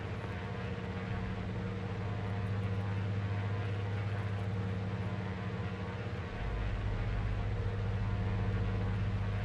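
Twin radial-engine propeller airplane running up for takeoff on runway 7 near Orlando, a steady loud drone with deep low rumble that swells further in the last few seconds, no voices.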